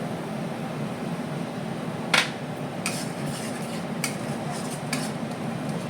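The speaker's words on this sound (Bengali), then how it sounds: "সবসময় নাড়তে হবে না তো নিচে ধরে যাবে" Stirring a cashew, melon seed and poppy seed paste with cooked-down tomato in a pan, a few sharp scrapes and clinks over a steady background hum.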